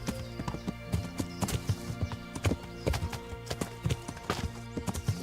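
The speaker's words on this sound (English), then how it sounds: "Fast travel equals your horse walking." Hooves clip-clop at a steady walking rhythm as a horse moves along a road in the video game Kingdom Come: Deliverance. The hoofbeats are close and distinct over a low background of game ambience.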